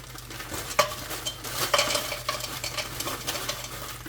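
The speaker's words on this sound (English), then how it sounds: "Then we're going to add our onions in. I'm try to break these up just a little bit." Onions go into a pot of melted butter and get stirred and broken up with a utensil, giving scraping clatter and soft sizzling with a few sharper knocks, moderately close and with no talking.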